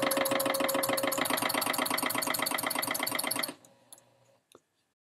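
A sewing machine runs continuously, stitching quilt block pieces, with a rapid steady mechanical chatter for several seconds that stops abruptly, followed by a few small clicks and handling sounds.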